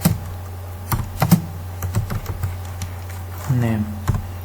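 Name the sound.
typing code on a computer keyboard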